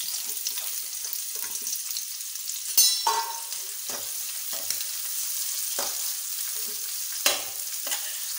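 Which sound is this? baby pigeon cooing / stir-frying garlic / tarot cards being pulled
stir-frying garlic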